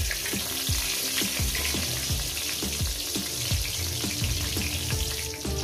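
Eggplant pieces sizzling in hot oil in a pan, a steady close crackle with frequent small pops and light clinks of a utensil throughout.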